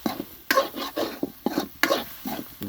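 Eggs stirred in a pan with a spatula, a series of soft scraping strokes roughly every half second, close and moderately loud with a faint sizzle beneath.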